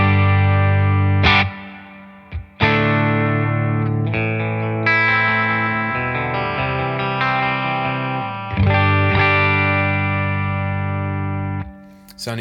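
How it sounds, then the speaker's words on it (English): Electric guitar played through the Capital Chambers reverb setting of a Keeley ECCOS delay looper pedal, sustained chords and notes ringing out with a lush reverb tail, loud and close, with a few pauses between strums. "this is the sound of the guitar with just the reverb from Capital Chambers"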